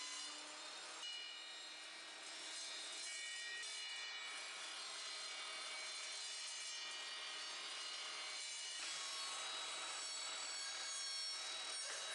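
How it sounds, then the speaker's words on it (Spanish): A bench-mounted table saw cuts wood, giving a continuous bright whine that holds steady for the whole stretch without a break and with no voices. "el que usa la máquina de la sierra de banco es el que empuja las piezas que tiene que cortar"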